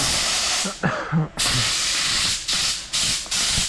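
Close, loud bursts of aerosol spray hiss in long and short blasts, with brief pauses between them.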